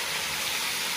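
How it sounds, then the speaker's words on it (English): Garlic sizzles in hot oil in a pan while cooking a ragù, a steady, dense hiss heard close and alone, with no voices. "Can you hear that sizzle?"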